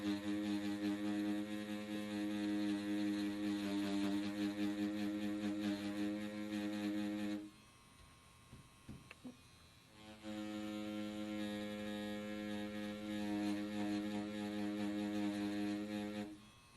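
An XNET Vane tattoo machine runs with a steady, tonal electric buzz, cuts out for a few seconds with a couple of faint clicks, then starts up again and hums on evenly.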